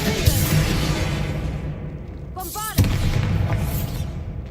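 Bombarda blasting spell exploding in the Hogwarts Legacy game, a loud booming burst among continuous game rumble and effects, with a short tonal chime just before the impact.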